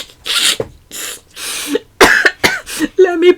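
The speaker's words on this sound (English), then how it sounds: "Let me pause so I could cough." A person lets out a burst of harsh, close coughs, several sharp hacking bursts in a row with brief gaps, loud and alone with no talking.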